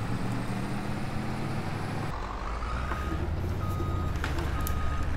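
A lorry in Farming Simulator 22 beeps steadily in reverse over its rumbling diesel engine, with a hiss of air brakes partway through.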